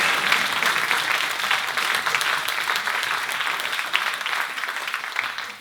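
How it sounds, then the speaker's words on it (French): Steady, dense audience applause fills a concert hall toward the end of an evening show, a continuous wash of many hands clapping at even loudness throughout with no voices standing out. "Ils méritent vos applaudissements"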